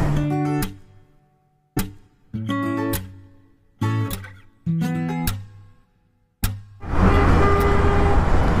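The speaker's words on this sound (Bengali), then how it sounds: "হর্ন বাজাতে বাজাতে সবাইকে পার করে তার যাইতে হবে" A car blaring its horn repeatedly while overtaking in traffic, five loud close horn blasts in an irregular series with short gaps, followed by a burst of road and engine noise.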